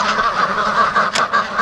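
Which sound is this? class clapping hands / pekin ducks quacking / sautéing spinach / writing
pekin ducks quacking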